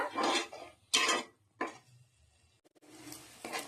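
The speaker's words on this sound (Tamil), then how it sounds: "தேங்காய் பேஸ்ட் போட்டு நல்லா மிக்ஸ் பண்ணிக்கோங்க" A spoon scrapes and clanks against a cooking pot while coconut paste is mixed in, in three or four short bursts separated by quiet pauses. The sound is close and moderately loud.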